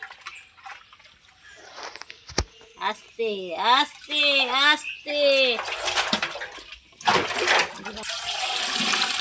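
A large live snakehead fish thrashes in water, sending out bursts of splashing and sloshing, while a person speaks anxiously in the foreground.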